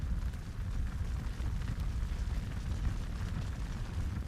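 Large gasoline fire spread over about 150 square feet, a steady deep roaring rumble that is continuous and close, with no pauses.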